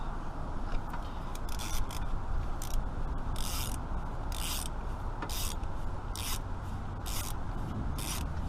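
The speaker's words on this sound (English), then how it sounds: "Sure you're going the right way with that ratchet?" A ratchet wrench works on a bolt underneath a Classic Mini. Repeated close, sharp clicking bursts come in an uneven rhythm over a rubbing mechanical background, with no talking.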